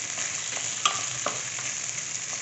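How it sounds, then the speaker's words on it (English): Boiled potatoes and roasted peanuts stirred in a frying pan for poha, a constant sizzle broken by a couple of clear spatula clinks and scrapes, close up with no voices. "So I have put the boiled potatoes and the roasted peanuts. Now I'm giving it a good mix."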